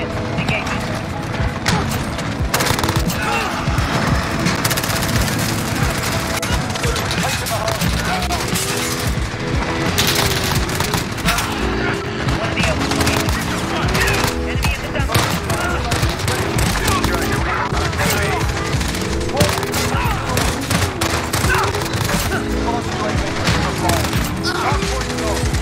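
MP7 submachine gun in Modern Warfare, loud rapid bursts of automatic fire repeating across the whole stretch amid game explosions and effects, with a voice talking over it at times.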